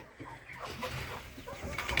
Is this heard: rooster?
yes